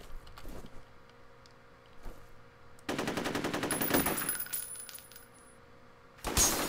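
Gunfire in the first-person shooter F.E.A.R.: scattered single shots at first, then a loud sustained burst of rapid automatic fire with metallic clinks, a pause, and another sharp burst at the end, no talk.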